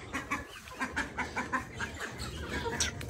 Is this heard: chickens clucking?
yes